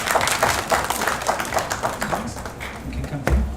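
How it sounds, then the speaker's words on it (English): Audience applause at the close of a talk, a dense spread of claps that stays steady and fairly loud throughout, with a brief low thump near the end. "A big hand of applause to you all."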